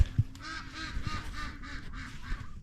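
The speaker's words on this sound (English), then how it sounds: "trying to get them ducks to shut up, which won't work" Farm ducks quack in a noisy overlapping chorus, repeated honking calls close by over a cold morning background, with no talking.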